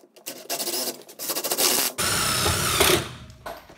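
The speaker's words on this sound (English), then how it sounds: "now I do self-tapping screws into the metal plate" A power drill driving self-tapping screws into a metal plate during a bus conversion floor build, several bursts of whirring motor with brief gaps, the longest run near the end, fairly close and moderately loud.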